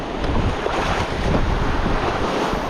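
Ocean waves surge and wash steadily, a continuous broadband roar blended with wind buffeting the microphone, with no voices over it.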